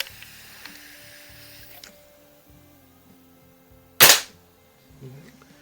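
A single sharp, loud shot from a 1950s Benjamin model 352 .22 caliber CO2 air rifle cracks out amid quiet mechanical hiss and faint handling noises.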